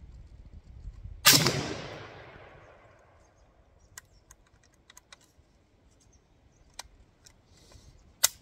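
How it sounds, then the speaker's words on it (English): A single gunshot from an AK rifle in a 3D-printed bullpup chassis cracks sharply and decays over about two seconds. Faint handling clicks of the mechanism follow in a quiet setting. "Today is going to be our first test fire of the Grozn't 3D printable AK bullpup chassis system."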